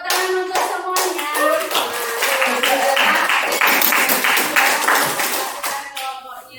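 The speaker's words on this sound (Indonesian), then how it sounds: "tepuk tangan untuk semuanya" A classroom group of children claps together in a dense, lively burst lasting several seconds, with a few voices briefly heard at the start and end.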